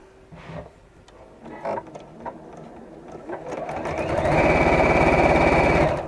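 A sewing machine stitches around the edge of an unusual fabric with a knitted back. A few soft handling sounds come first, then the motor starts and runs as a steady, loud, fast whir.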